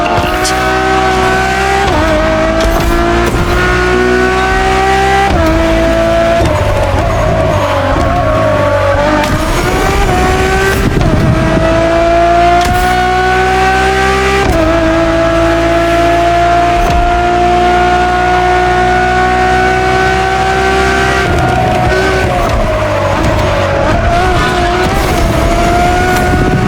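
A Ferrari Enzo V12 in a racing game roars loud and continuous, revving up through the gears with rising and falling pitch, shift dips and brief tire squeals along the way.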